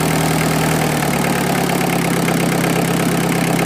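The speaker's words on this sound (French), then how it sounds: "Alors on peut pas mettre un ralenti trop bas parce que ça vibre un peu." A Holder AM2 prototype engine idles with a steady, loud, low mechanical drone and a slight vibrating rattle, running continuously and close by with no voices.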